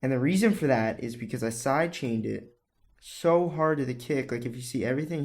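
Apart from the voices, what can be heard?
None of the usual background noises is heard.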